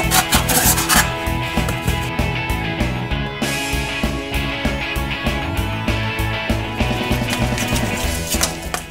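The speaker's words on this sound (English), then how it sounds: "I've cut one cardboard box into probably a few dozen strips." A copper knife saws through a cardboard box, cutting it into strips, with loud repeated rasping and scraping strokes in a steady rhythm close by, no talk.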